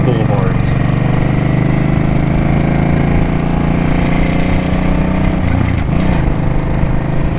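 A Suzuki Boulevard C50T cruiser motorcycle engine pulling and accelerating, a loud, close, continuous drone with a buzzy mechanical edge, and a voice talking over it.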